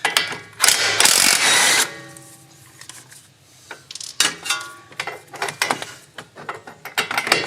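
A ratchet and a 23 mm socket turn a front strut bolt on a Mazda 6, with sharp clicking bursts up close, first a dense loud run and then irregular short strokes.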